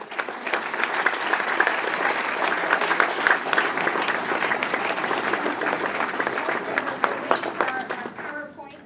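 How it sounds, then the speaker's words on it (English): Graduation ceremony audience clapping together, dense and sustained applause from a large crowd for about eight seconds before tapering off at the end. "could we all just clap together and congratulate everybody for graduating today?"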